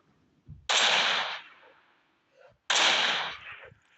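Gunfire from the mobile game PUBG Mobile, two loud, close, sharp bursts about two seconds apart, each with a brief decay, set against near silence.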